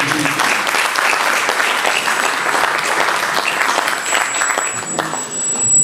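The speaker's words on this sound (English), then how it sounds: "So I will say, clap for the Dundee Particular Association." An audience at a Pakistan Independence Day event in Dundee applauds the Dundee Particular Association, a dense, loud, sustained wash of clapping that runs for several seconds and tapers slightly at the end.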